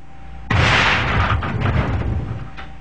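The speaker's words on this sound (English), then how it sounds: "This tank has been deliberately weakened to demonstrate how quickly and without warning a tank can fail." A liquefied gas tank, deliberately weakened, bursts in a BLEVE demonstration: one sudden, very loud blast followed by a couple of seconds of roaring, rumbling fireball noise, with no talking.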